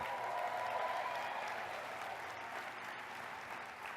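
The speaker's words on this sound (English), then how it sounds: "let's give him a round of applause, Tim Blank, the developer of the Tower Garden" A seated crowd at a Tower Garden business training breakout in Anaheim gives a steady round of applause for developer Tim Blank, the dense clapping holding evenly throughout at moderate, slightly distant level.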